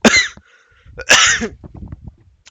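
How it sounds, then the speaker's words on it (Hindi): Two sharp coughs, close and loud, followed by a few softer throaty sounds. "सॉरी, थोड़ा सा खांसी हो गया है।"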